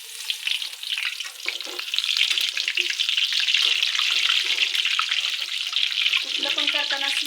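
Spinach fritters, palak bhaje, frying in hot oil give a steady, bright sizzle that swells as more batter drops in, continuous and close, with someone talking over it.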